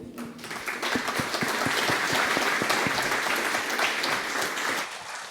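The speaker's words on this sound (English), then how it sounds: "big round of applause, please" Audience applause greets a panel featuring Vitalik Buterin, starting with a few distinct near claps that quickly swell into full, loud, sustained clapping from the crowd, then taper away at the close.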